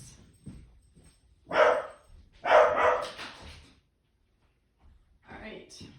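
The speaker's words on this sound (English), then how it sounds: "A dog just went by, and so my dog is going nuts." A house dog barking excitedly indoors after another dog passes outside: a few loud, close barks in quick bursts, separated by short silences.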